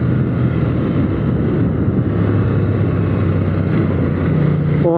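A KTM 890 Duke R motorcycle on a kart track drones loudly and steadily as the engine brakes, a sustained low rumble with wind buffeting the microphone and a brief rising note at the very end.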